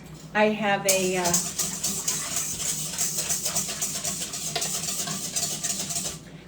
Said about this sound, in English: I'm going to put this on the mixer. I'm just going to stir this quick.